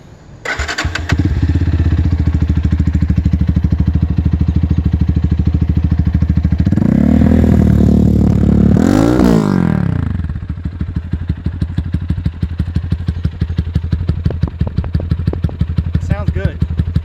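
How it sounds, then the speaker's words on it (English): A Lifan KPR 200cc motorcycle engine with a factory racing exhaust cranks and fires up, then revs hard twice with a raspy, loud exhaust before settling into a rough, throbbing idle close by. "Let's fire it up."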